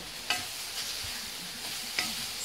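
Bottle gourd sabzi with onion, cooked in little oil, sizzles quietly in a pan under a steady frying hiss, with two brief spoon scrapes or clinks as it is stirred, no voices.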